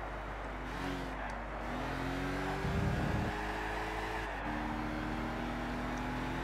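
Racing car drifting in Gran Turismo 6, a steady engine drone with shifting pitch as the car slides through corners, a short tyre-scrub burst near the middle, continuous with no talking.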